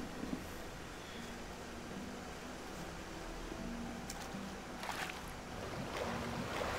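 River water flowing in the video game Gothic, a steady broadband rush of moving water with faint splashes and a low hum underneath, fairly quiet and continuous with no talking.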